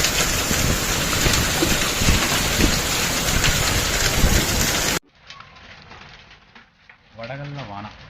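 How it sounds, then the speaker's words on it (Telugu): Hailstorm with heavy rain pouring down in Telangana, a dense loud hiss of falling rain and ice for several seconds, then a sudden cut to a much quieter scene with a faint voice. "ఇక ఈరోజు అయితే మొత్తం వడగళ్ళ వాన పడుతుంది"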